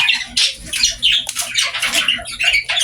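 Cockatiels kept by breeders squawking loudly and close by, a dense run of shrill, overlapping calls with barely a pause between them.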